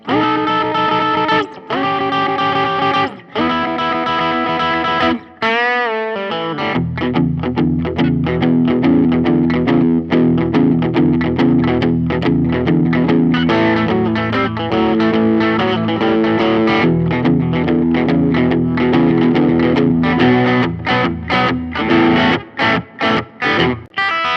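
Electric guitar through a Fender Mustang Micro with Tube Screamer-style overdrive, a warm, mid-heavy crunch, strummed chords and riffs played loud and continuous, with brief pauses between phrases.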